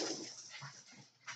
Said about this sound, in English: I hear the dogs. They're playing.